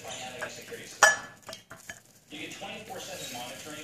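Fork scraping cooked spaghetti squash strands, light intermittent scratches and clinks against the shell with a sharp tap near the start, fairly quiet.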